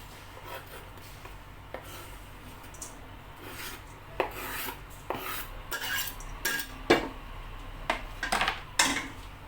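Chopped onions tipped and scraped into a pressure cooker for a chickpea and vegetable dish with butter, scattered rasping scrapes and light metallic clinks of a utensil against the pot, sparse at first, then busier toward the end.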